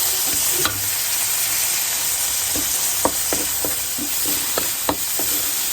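Food fries in a small amount of very hot oil in a pan, with a steady, close hiss and sizzle throughout, scattered with occasional sharp pops and spatters. No voices are heard.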